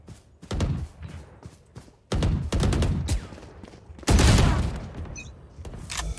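Gunfire in the game Valorant: loud bursts of rapid shots in three clusters, sharp and close, with brief gaps between them.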